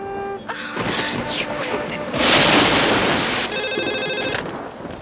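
Steady rain pours throughout, with an electronic telephone ringing in a repeating trill early on and again near the end, heavier rain swelling in the middle during a monsoon flood scene.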